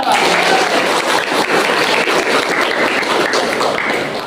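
An audience at a university teaching event claps steadily for a student called up to the front, a dense roomful of applause held loud and even throughout, with some crowd voices mixed in.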